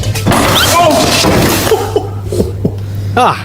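Loud crunching and smashing impacts as a car is smashed in a video game pile up at the start, followed by scattered thuds and knocks with voices talking and laughing over them.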